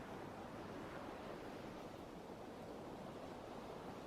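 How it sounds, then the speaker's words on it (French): Gentle sea waves murmur in a constant, low hiss of surf, distant and unbroken, calm and faint with nobody speaking. "tu perçois toujours le doux son des vagues"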